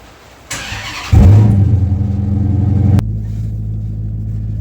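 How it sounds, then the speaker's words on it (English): Car fitted with a Hurst Comp Plus 2 short-throw shifter and pistol grip fires up: a brief starter crank, then the engine catches with a loud burst and revs, before settling into a steady, close idle. "fire the car up, and then we can take it for a spin"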